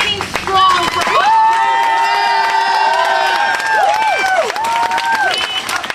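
A teachers' rally crowd breaks into cheering, whooping and applause, loud and sustained, with shouted voices and whistles riding over the clapping for several seconds.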